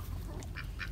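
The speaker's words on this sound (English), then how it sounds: "And there's our duckies and our chickens." Ducks kept with chickens on a rural property, giving two short quacks over a low background rumble, fairly faint.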